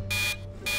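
Alarm going off in the video game Infamous Second Son, two loud electronic bursts, each a steady high tone held for about a quarter second, separated by a brief gap.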